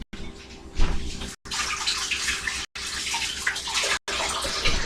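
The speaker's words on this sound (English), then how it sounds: "a quick wash up might be recommended" Hands being washed under a running tap, a steady rush of water splashing into a basin that breaks off in three brief silent gaps, with no talking over it.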